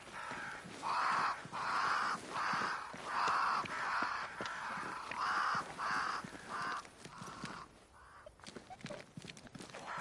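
Crows in the video game Banishers: Ghosts of New Eden give a run of harsh, regular caws for about seven seconds, fairly loud over an ambient background, then fade away.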